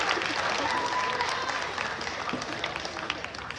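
An audience at a Renaissance faire joust applauds, a dense patter of clapping that starts strong and gradually thins out over a few seconds.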